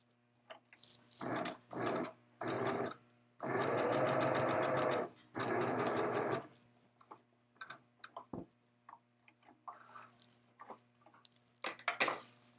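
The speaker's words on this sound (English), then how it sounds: "And then I sew real close to the edge of the shorts." Sewing machine stitching close to the edge of a pair of shorts, several bursts of rapid, even mechanical whirring, the longest lasting a few seconds, separated by pauses with light clicks and handling noise.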